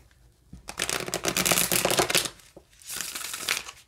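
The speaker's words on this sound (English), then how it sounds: "Spirit says one more good shuffle and then we can proceed." Brisk riffling and flicking of tarot cards, two bursts of crisp papery shuffling separated by a short pause, close and fairly loud, no voices.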